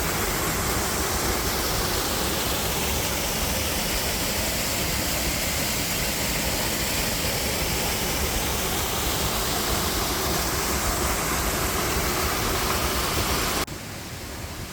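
Small waterfalls at Upper Falls in Vermont rush in a steady, loud, broadband roar close by, unbroken for nearly the whole stretch before dropping away abruptly at the very end.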